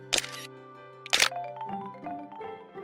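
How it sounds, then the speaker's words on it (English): Nintendo 3DS camera shutter effect from an early E3 2010 tech demo: two crisp, quiet clicks about a second apart, followed by soft electronic chime tones. "the camera shutter sound plays regardless of volume"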